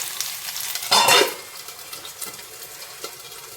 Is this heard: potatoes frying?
yes